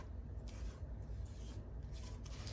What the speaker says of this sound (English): let's scrape this down, make sure there's nothing sitting at the bottom.